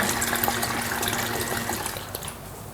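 A Moyu portable folding washing machine starts running with cold water inside, giving a steady sloshing, gushing churn with a faint motor hum that eases off slightly near the end.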